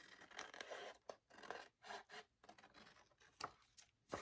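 Paper being cut along a score line for a stationery box craft project, giving a close, scratchy series of rasping snips and scrapes in uneven strokes.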